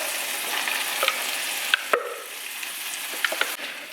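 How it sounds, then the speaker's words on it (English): Green onion and garlic sizzle steadily in a pan of oil, with a few scraping clicks of a utensil as a thick mixture is scraped in; the frying stays constant and close throughout. "I'm just gonna scrape it all out into the pan where I have my green onion and garlic simmering."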